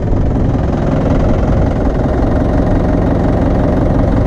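A tractor stuck in a muddy field runs its engine with a loud, steady, low rumble close by, a constant drone with no change in pitch throughout.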